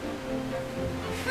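Ocean waves splash and surge with white foamy spray under a low steady roar, a continuous wash of water close by.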